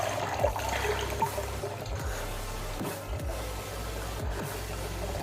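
Water from a homemade hang-on-back aquarium filter's spray bar splashes and trickles steadily into a tank kept at a low water level, a continuous close bubbling patter with no talk over it.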